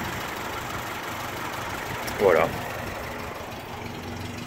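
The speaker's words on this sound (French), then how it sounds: "tu as un petit moteur sympa, un 2 litres, hein, je crois, qui tourne gentiment, régulièrement" A 1978 Datsun 620 pickup's 2-litre engine idles smoothly and steadily, a continuous low hum running under a man's speech, with a brief louder burst of voice partway through.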